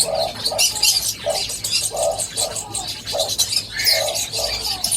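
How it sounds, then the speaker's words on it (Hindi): Two rosy starlings kept indoors for breeding sing in a varied, chattering song with repeated warbling phrases and bright high notes, close and fairly loud. "पर ये 2 बर्ड सिंगिंग कर रहे हैं"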